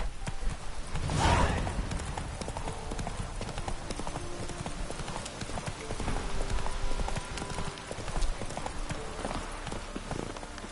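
Hooves of the horse Roach clip-clop steadily through the Witcher 3 game world, a close, continuous trot with a louder burst of movement early on over faint ambient background.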